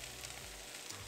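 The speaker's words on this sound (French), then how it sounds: "je vais rajouter ici mes oignons" Onions dropping into a hot frying pan for a tortilla, a soft, steady sizzle heard faintly and continuously throughout the short moment.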